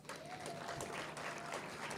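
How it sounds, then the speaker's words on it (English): An audience at the Mandela African Leadership Summit applauding for Somalia, a dense, steady wash of clapping from many hands, fairly distant and uniform for the whole stretch. "Let's give him a big round of applause."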